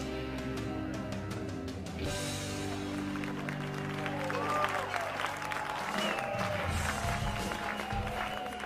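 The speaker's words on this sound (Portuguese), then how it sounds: "Preciso que esses aplausos sejam ainda mais fortes!" An audience bursts into steady applause, a bright dense clatter that builds and continues for several seconds, with music and scattered voices underneath.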